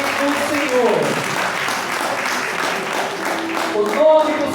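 A church congregation applauds and cheers in a broad, steady wash of clapping, with raised voices calling out over it and a louder swell near the end.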